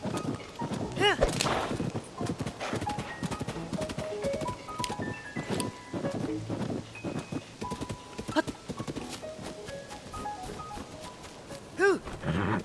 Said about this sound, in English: What I think is really cool about the horse travel is that, like, you don't even have to really steer.